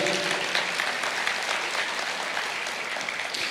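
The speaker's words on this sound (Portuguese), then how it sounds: "Vou dar uma salva de palmas para Jesus." A church congregation gives a round of applause for Jesus during a sermon, with steady, dense clapping from many people sustained throughout at a moderate distance.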